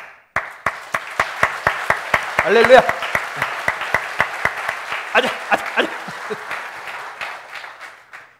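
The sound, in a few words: congregation applause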